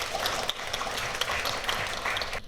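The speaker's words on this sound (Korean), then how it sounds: "여러분 박수 부탁드립니다." Audience at a Seoul city welfare agreement signing ceremony breaking into applause, a dense, continuous wash of many hands clapping, moderately loud and steady throughout with no talk.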